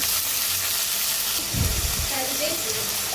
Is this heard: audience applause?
no